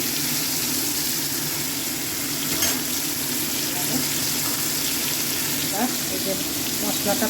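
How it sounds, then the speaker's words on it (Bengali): Small solid chicken pieces with turmeric sizzle steadily in a hot pan, a continuous close frying hiss with occasional stirring clicks, while someone talks faintly in the background. "চিকেনগুলোকে একটু ভাজা ভাজা করে নেব,"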